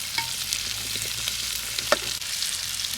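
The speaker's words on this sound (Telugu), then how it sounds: "ఉల్లిపాయలు బాగా వేగేసినాయి. నెక్స్ట్ మనం టమాటా ముక్కలను కూడా యాడ్ చేస్తాం." Onions, green chillies and tomato pieces fry in a pan outdoors for a prawn curry, making a soft, steady sizzle with occasional stirring scrapes and no talking.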